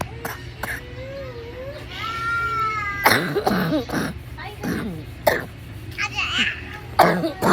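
A few harsh, strained coughs and throat clearing from a person with chest pain, close by, mixed with speech and a voice.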